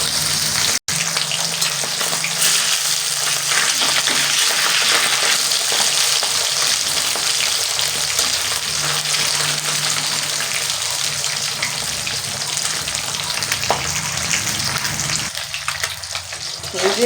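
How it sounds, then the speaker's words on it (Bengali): Pabda fish frying in hot oil, giving a loud, dense, unbroken sizzle close by that runs throughout, with only faint background noise and a brief dip near the start. "আমি মাছগুলো এক এক করে ভেজে নিয়ে তারপরে দেখাচ্ছি"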